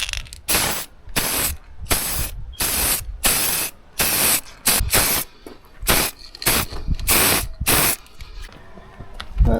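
Paint sprayed onto a 1993 Pennine Aztec trailer tent in about a dozen loud, hissing bursts of roughly half a second each, separated by short pauses, with no talking.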